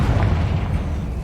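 A Confringo spell detonates in the video game Hogwarts Legacy, producing a short, dense booming rumble that stays loud and low throughout.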